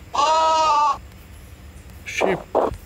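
A sheep in the Worldcraft 3D build and craft game gives one long wavering bleat, then two shorter bleats follow after a pause, close and clear.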